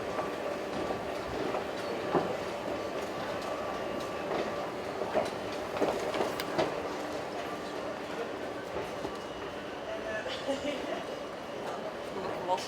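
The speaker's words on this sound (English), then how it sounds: "Looks like there's a train there." Steady rumble of a train at Eindhoven station in the Netherlands with rail clatter and scattered clanks, while people talk nearby throughout.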